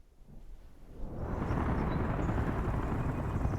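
A helicopter flies in the Soviet-era city-building game Workers & Resources: Soviet Republic, swelling within the first second and a half into a steady, loud rotor drone that fills the rest of the clip on its own.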